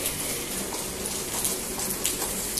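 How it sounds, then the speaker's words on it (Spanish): Heavy rain pours down in a steady, dense hiss that stays even and loud throughout, with no voices. "Pero wow, llueve de una manera, familia."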